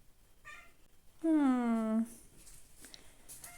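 A single drawn-out meow from a cat, close and loud for under a second, rising then falling slightly, with faint speech before it and quiet room sounds after.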